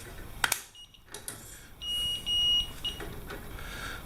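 A laser level set up for tiling a large steam shower beeps because it is not set level, giving a few sustained electronic tones of about half a second each, moderately loud over faint room noise with some handling clatter.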